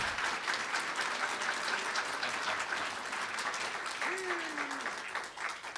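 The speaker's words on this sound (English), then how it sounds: "Let's give Junior and his singers, his boys, beautiful boys, and our committee a round of applause once again." Round of applause at an American Indian writers award event for a drum singer and his group and the organising committee, a sustained fairly soft crowd clapping with a brief tonal sound midway.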